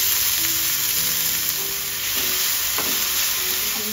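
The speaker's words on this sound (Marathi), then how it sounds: "आता आपल्याला तव्यामध्ये थोडंसं तेल घ्यायचं आहे, त्याच्यात ॲड करायचं आहे लसूण आणि मग टाकायचं आहे बारीक चिरलेली मेथी" Garlic and finely chopped fenugreek leaves fry in oil on a pan with a loud, steady close-up sizzle and occasional faint stirring scrapes, and no voices.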